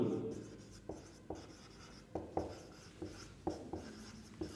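A pen writes chemistry equations by hand during a kinetics lesson, producing close scratchy strokes and light taps in short bursts, with a faint room hum underneath and no talking.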